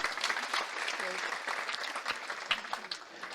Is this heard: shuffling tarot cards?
no